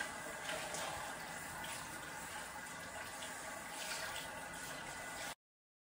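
Water runs steadily from a tap as hair is washed with cold water during a co-wash routine, a continuous close hiss with no voices.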